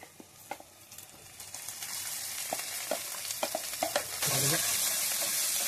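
Bamboo shoot frying in a pan for a fish curry, a steady crackling sizzle with scattered sharp pops and stirring clicks, growing louder and denser toward the end.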